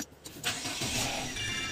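Haima S5 1.5 turbocharged CVT car starting by push button: a short crank, then the engine catches and settles into a steady idle, heard up close with no talking.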